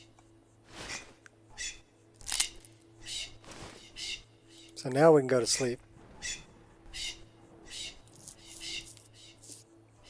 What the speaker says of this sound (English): Them birds are annoying though